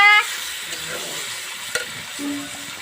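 Goat meat is added to a spice paste and fried for a red curry, giving a close, steady hiss of sizzling with a brief clatter partway through and a light stirring scrape.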